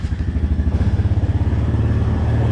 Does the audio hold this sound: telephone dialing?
no